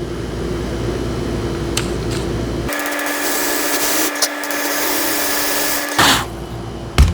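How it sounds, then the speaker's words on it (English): Drill boring into wood for a woodworking platform, a close, loud steady whine that starts partway through and runs for a few seconds before stopping, with no talk. "We don't have to drill near as deep on this one."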